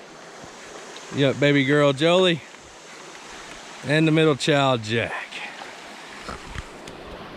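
Swallow Creek flows as a steady, soft rush that runs all the way through, behind two stretches of someone talking close to the microphone.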